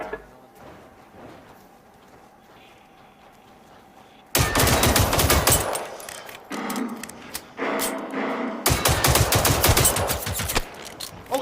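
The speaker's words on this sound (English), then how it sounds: "Oh shit, that one can shoot!" In the video game Generation Zero, an enemy machine fires loud, close automatic bursts that break out suddenly after a quiet, faintly humming stretch. Rapid rattling volleys repeat with short gaps between them.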